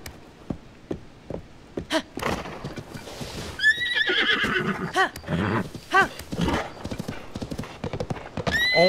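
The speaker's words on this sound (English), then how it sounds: "Oh my god, horse! Calm down!" Horse hooves clip-clop and a loud neigh in Zelda: Tears of the Kingdom, with rhythmic steps, snorts and a whinny mid-clip, while a player sighs and reacts under it.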